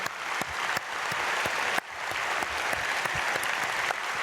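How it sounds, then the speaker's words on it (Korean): A church congregation at a Myungsung Church early-morning prayer service gives young students sustained applause, a dense wash of clapping broken by a few sharper individual claps. "우리 유소년 학생들 끝까지 은혜 받도록 박수해 주시길 바랍니다."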